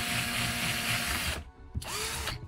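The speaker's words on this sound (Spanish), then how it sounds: "Está taladrando." A power drill bores holes at a window fitting. Its whine runs loud and continuous, breaks off briefly, then spins up again in a second short burst close by.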